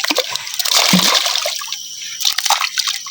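Tilapia jump and splash in a small fishpond, a burst of close, bright splashes and drips that fade, then pick up again with scattered splatters.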